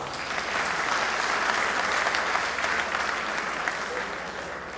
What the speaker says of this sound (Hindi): बहुत कमजोर तालियों के बीच में मैं कविता पढ़ रहा हूं